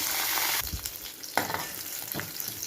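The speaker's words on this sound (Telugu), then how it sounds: "పోపు అంతా వేగిపోతుంది" Spice tempering for garlic-heavy dal sizzles loudly in hot oil, a dense hiss that eases after the first half-second, broken by a few stirring clicks, with no voices.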